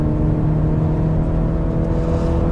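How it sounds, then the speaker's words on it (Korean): Cadillac CT4 sedan at full throttle, a steady, loud engine roar with a sustained whirring drone heard from inside the cabin and no speech over it. "자, 이제 풀가속 하고 있고요."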